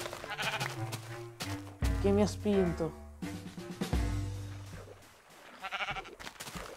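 A sheep bleats repeatedly in Minecraft, loud, near and drawn out, while someone speaks Italian in between.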